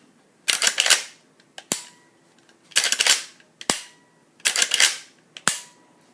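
A Marlin 336 lever-action rifle is worked three times in a row, each cycle a sharp metallic clack-clack sequence of lever throw and bolt closing, close up and crisp against quiet surroundings.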